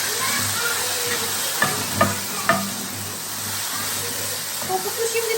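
Ginger, garlic and a splash of water go into a pan of frying onions, setting off a steady close sizzle broken by a few sharp clicks from stirring against the pan.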